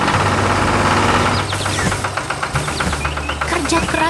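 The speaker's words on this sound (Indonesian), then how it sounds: "Traktor hijau bekerja di tengah sawah" A green farm tractor's engine runs out in a field, a steady low chugging hum with a knocking rhythm that carries on under a voice talking over it.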